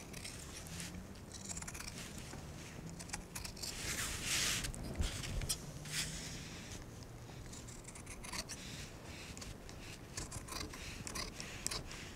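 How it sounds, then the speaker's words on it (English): Close, crisp snipping and rustling of scissors trimming a jacket facing on a curve, a steady run of small cuts through cloth with soft fabric rubbing in between. "with your scissors on a curve like this, you're actually trimming the facing side"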